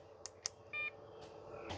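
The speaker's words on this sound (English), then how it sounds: "Wait for the beep." Two short clicks, then a single brief electronic beep from an RV keypad door lock on a Forest River Cedar Creek 391WOW, faint and close in a quiet space.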